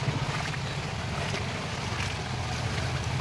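Feet wading through a flooded street in Kolkata make steady, continuous sloshing and swishing of water, with a low rumble and wind noise on the microphone throughout.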